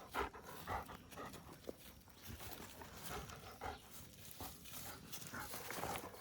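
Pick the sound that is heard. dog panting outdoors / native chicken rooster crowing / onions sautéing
dog panting outdoors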